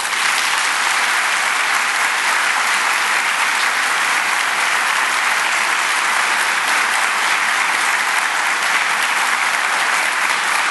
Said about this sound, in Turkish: Bu alkış çok zayıf arkadaşlar